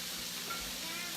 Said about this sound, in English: The sizzling noises sound really funny.